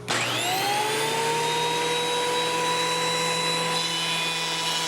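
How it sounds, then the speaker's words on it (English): A wood planer runs steadily on a rough sawmill-cut board, a loud continuous motor whine with high harmonic tones spinning up at the start and holding level throughout, with no talk. "We're going to clean it up with a quick pass through the planer."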